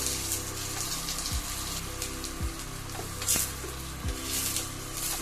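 Onions and two raw green chilies sizzle steadily in hot oil with cumin seeds in a pan, a continuous close crackling hiss with occasional louder pops throughout.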